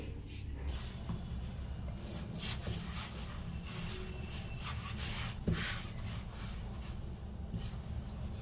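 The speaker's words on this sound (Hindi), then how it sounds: "अब इसमें डालेंगे हम 1 कटोरी आटा और इसको हम गूँथ लेते हैं" Hands knead wheat flour dough mixed with cooked vegetables for paratha, producing a steady, close rubbing and pressing noise with no talking.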